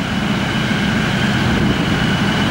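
A Leopard 2A6 main battle tank's engine runs with a steady, heavy low drone and a broad hissing roar, loud and unbroken throughout.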